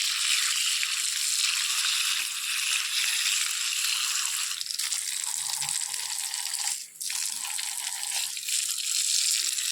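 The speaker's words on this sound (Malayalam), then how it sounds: "നമുക്ക് നമ്മുടെ ചാമ്പയ്ക്കൊന്ന് കഴുകിയെടുക്കാട്ടെ" Tap water gushes steadily over rose apples being washed by hand, a bright, continuous hiss with a few brief dips and clatters as the fruit is moved under the stream.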